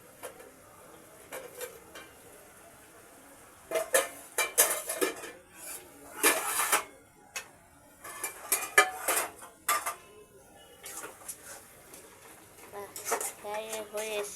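Metal cooking pot lid lifted off during stovetop simmering, giving a series of clanks and scrapes with scattered clatter of pot and utensil, moderately close with quiet gaps between bursts.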